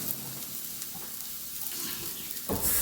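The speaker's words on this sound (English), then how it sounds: "I'm just allowing it to saute a little" Brown chickpeas sautéing in a pan give off a steady, close sizzle with light stirring scrapes, growing louder and brighter near the end.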